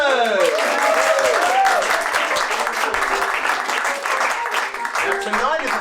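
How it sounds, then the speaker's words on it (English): A comedy show audience at the Melbourne International Comedy Festival breaks into loud, continuous applause for the puppet stars, thick clapping mixed with cheers and whoops that carries on for several seconds. "please give another big, warm round of applause for our stars tonight"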